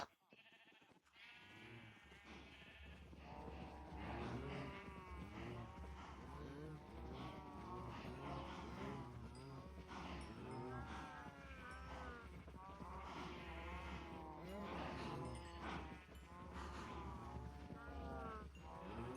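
Continuous overlapping mooing from many Minecraft cattle, loud and steady throughout, layered over a low hum, like a crowded herd.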